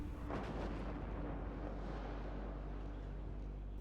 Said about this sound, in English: Artillery now hitting down here in the bottom corner.